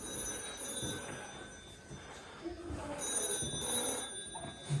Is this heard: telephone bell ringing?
yes